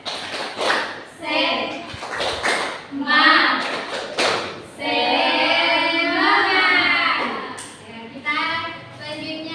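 Schoolchildren in an Indonesian primary classroom perform a rhythmic spirit clap: a quick patterned run of sharp, close claps, then their chanting voices take over.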